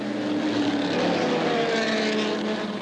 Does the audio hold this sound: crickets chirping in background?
no